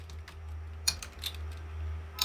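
Typing JavaScript code on a computer keyboard: a few light, irregular key clicks, close and soft, over a steady low electrical hum.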